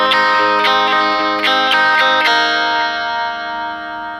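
Electric guitar with chorus, delay and light distortion picks a song's chorus riff, a short burst of bright repeated eighth notes over a ringing bass note before the last notes sustain and slowly fade, close and loud.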